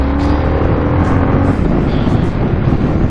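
A 2022 Harley-Davidson Sportster S custom motorcycle at 2700 rpm gives a deep, loud, continuous bass rumble while riding, mixed with steady wind rush on the microphone.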